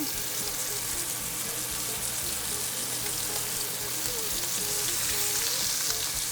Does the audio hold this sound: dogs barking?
no